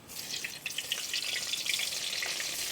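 Eggplant slices frying in hot mustard oil in a pan, a dense, steady close sizzle with small pops and crackles throughout; no talking.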